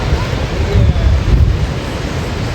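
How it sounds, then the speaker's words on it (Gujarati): Water gushing from the Dharoi dam during a flood alert rushes in a loud, continuous low roar, heavy wind rumble mixed in, with no clear voices over it. "કેવું પાણી પડે ગાઈસ."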